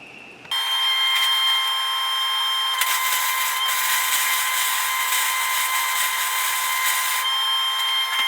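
A slag hammer head is welded to its handle: after a short quiet start, a steady, harsh buzzing hiss begins abruptly and carries on evenly and loudly, with occasional crackles and slight shifts in intensity.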